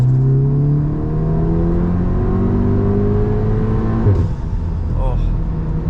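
A VW Golf R held on the brake for a brake-boost launch, its engine droning and rising in pitch as it revs and pulls away, loud and steady from inside the car, with a voice talking over it.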